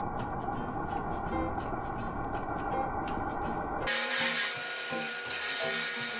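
A 3D printed saw blade rasps through a softwood 2x4 in steady, close, scraping strokes, then the tone turns harsher and brighter as the plastic blade starts melting in the cut, with no talk.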